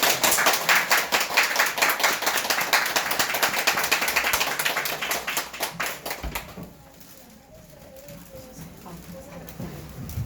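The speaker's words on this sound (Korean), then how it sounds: "박수로 한번." Audience applause at a Korean church service for an elder ordination, steady dense clapping for about six seconds and then fading into quieter room sound.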